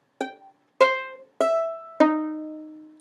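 Four plucked violin notes, pizzicato, each a short ringing pluck spaced evenly apart, the last one sustaining longer; no talking.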